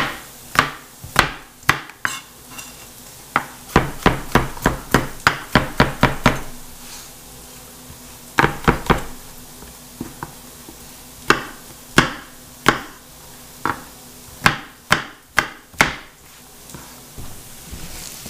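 A knife chopping through an apple on a cutting board, with many sharp, close knocks: a rapid burst of strokes, then slower, separated chops, no talking.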